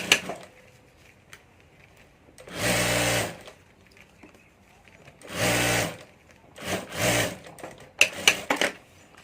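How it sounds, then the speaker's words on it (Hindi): A sewing machine stitches a handbag lining in several short bursts of rapid, close mechanical clatter separated by quiet pauses, with faint handling clicks in between. "तो यहाँ ऊपर भी एक सिलाई कर देता हूँ मैं।"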